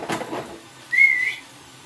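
A short, clear whistle tone rises and holds for about half a second during a TV wrestling skit, after a brief burst of muffled noise.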